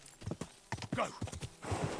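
A horse's hooves clip-clop at a brisk steady gait in the video game Kingdom Come Deliverance 2, close and moderately loud, with a soft snort or whinny near the end.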